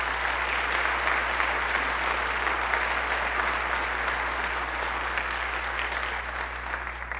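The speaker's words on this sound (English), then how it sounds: "So how about one more round of applause for those soloists?" Steady applause from an audience at a school all-region band concert fills the hall for soloists, a dense, even wash of clapping that continues throughout without fading, over a low constant hum.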